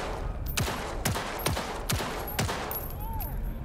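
An automatic rifle in the Cyberpunk 2077 video game fires in five evenly spaced sharp bursts, loud and close, with a faint game tone sweeping in near the end.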